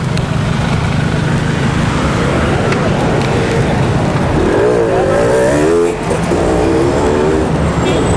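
Heavy traffic on a busy city street beside a pedestrian footbridge, a loud continuous roar of passing cars and buses with engines revving close by.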